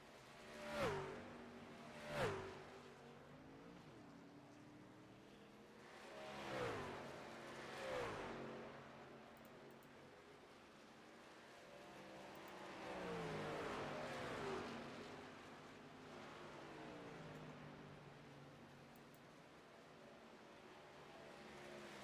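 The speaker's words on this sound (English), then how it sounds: "As more trucks come to pit road, Comstock, Montesi, Gillenwater" In a racing video game, pickup race trucks in a winter series at Las Vegas whine past and rev as they pull onto pit road, with several engine sweeps rising and falling, moderately loud, with no voices.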